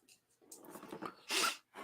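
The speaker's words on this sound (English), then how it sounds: "I have to sneeze." A quick buildup of breathy sounds ending in a single short, sharp sneeze, close and fairly quiet.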